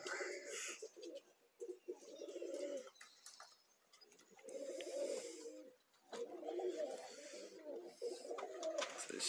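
Pigeons coo in a loft in repeated low, throaty phrases separated by short pauses, with some birds sitting on eggs. The cooing is close and moderately loud, with faint chirps and rustles behind it.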